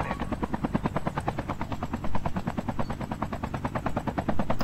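An aircraft flies in the video game Call of Duty Mobile, with a loud rapid rotor-like thumping pulsing steadily throughout and no voices.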